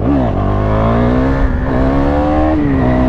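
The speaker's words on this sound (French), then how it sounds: "je vais quand même tenter une fois au moins ce que ça peut donner, voir en wheeling" A 2017 KTM Duke 390 single-cylinder motorcycle engine revs hard and loud up close as the rider lifts into a wheelie, pitch rising and dipping through gear changes, with wind rush and no talk.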